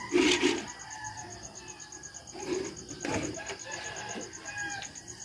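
A rooster crows at a moderate distance over background chatter and a steady high-pitched tone, with clucking and movement around it.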